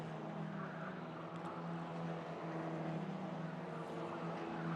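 Formula Regional race cars circulate at Monza during qualifying, a steady distant engine drone with a continuous low hum and no clear pass-by peaks.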